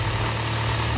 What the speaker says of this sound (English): Engine start. Cranking good. Engine start good. Sound engine good.